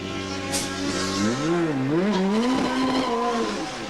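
Touring race cars at full speed at Mallala, 1989 Australian Touring Car Championship round, engines rising and falling in pitch as they pass close and loud, several cars overlapping.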